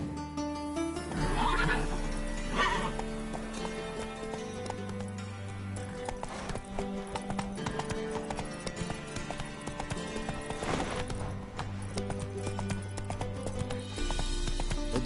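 Geralt's horse Roach in the Witcher 3 video game gallops with rapid rhythmic clip-clop hoofbeats and lets out neighs, set against a game soundtrack with music.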